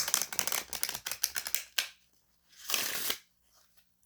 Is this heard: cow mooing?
no